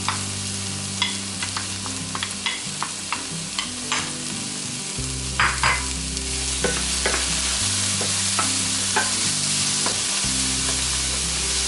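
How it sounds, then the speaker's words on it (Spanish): Half a red and half a green pepper with an onion sautéing in a pan over moderate-low heat, a continuous close sizzle punctuated by repeated scraping stirs, no voices. "Y dejaremos pochar por unos 2-3 minutos a fuego moderado bajo"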